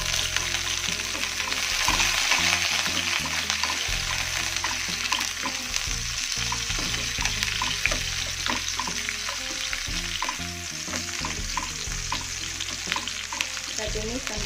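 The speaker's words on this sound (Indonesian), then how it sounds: "Kita tumis sampai mengharum." Shallots and garlic sautéing in about 10 ml of hot oil, with a constant frying crackle and repeated scraping and tapping from the stirring utensil throughout.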